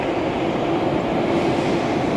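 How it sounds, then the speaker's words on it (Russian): Steady, loud rumble of a Saint Petersburg metro train pulling away from a deep station toward a turnaround track, a continuous broadband roar with no pauses and no voices over it. "Сейчас отправляется у нас поезд в оборотный путь."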